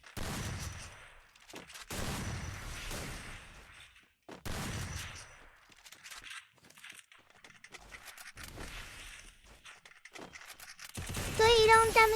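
Gunfire in a shooting video game custom match, several bursts of sharp rapid shots in clusters, with a voice talking over them through much of the span.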